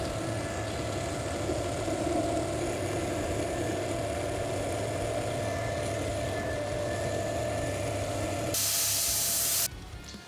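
A lathe knurling a high tensile 200,000 PSI steel barbell shaft gives a steady, loud mechanical grinding hum with a broadband hiss. A brief bright hissing burst comes near the end before the noise drops away.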